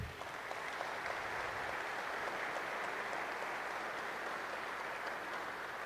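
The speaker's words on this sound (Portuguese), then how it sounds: "Uma salva de palmas para os nossos prefeitos." Applause for the mayors at a São Paulo infrastructure event, a steady, even wash of crowd clapping held at a distance, fairly faint and continuous throughout.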